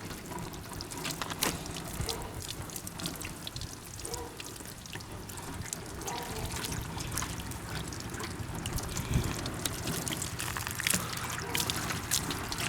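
Water poured from a pitcher over a fogged car headlight, a steady trickling and dribbling splash that runs continuously with small drips, fairly faint and heard alone without voices.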